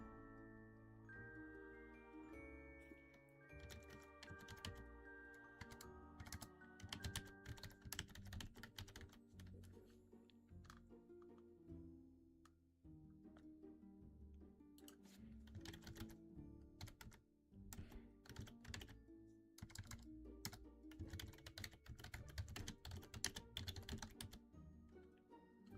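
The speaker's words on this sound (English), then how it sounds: "I'm still typing up my dream." Computer keyboard typing in bursts of quick, close clicks over steady background music, pausing briefly midway before resuming.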